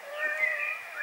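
A domestic cat meows in one drawn-out call close by, with a smooth rising and falling tone and no talk over it.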